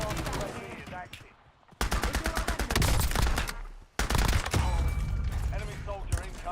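Rapid bursts of automatic gunfire in Call of Duty Warzone, loud and close with sharp repeated shots in several clusters separated by brief lulls, with voice chatter mixed underneath.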